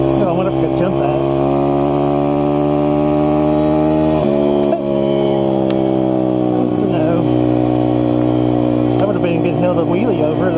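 An SSR 160 pit bike engine while riding, a steady loud buzzing drone that dips as the throttle eases and then climbs again, with someone talking over it.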